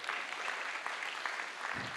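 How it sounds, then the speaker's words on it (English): Audience at a hackathon closing ceremony applauds the participants, a faint, distant, even wash of clapping throughout. "give yourself a massive round of applause for shipping something in a short amount of time"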